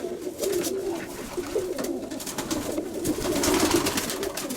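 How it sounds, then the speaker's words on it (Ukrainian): A Sarakova pigeon, moulting, coos steadily close by, low rolling calls running through the whole stretch with a slight swell toward the end. "Це голубка Саракова"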